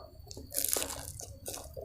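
Crisp crunching bites into fried Lampung snacks, serabi and pandap from Krui, made with home-ground real rice, a few close crackly bursts with small wet chewing sounds in between.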